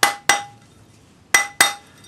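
Four sharp metallic taps ring out in two quick pairs, each leaving a short bright ring as a rawhide hammer strikes a metal spring ring.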